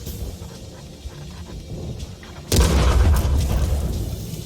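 Artillery fire in the World of Tanks console game: a sudden heavy boom bursts in halfway through, followed by a loud rumbling roar over a low background drone.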